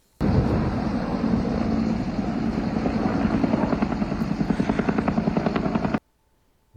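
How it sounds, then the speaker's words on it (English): Firefighting helicopter rotors thump loudly and continuously for about six seconds over a wildfire near the Iskatna River, a close, pulsing drone that cuts off abruptly. "This is video of helicopters working to save the community Thursday"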